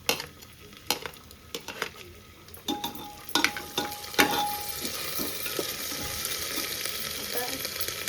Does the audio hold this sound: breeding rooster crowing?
no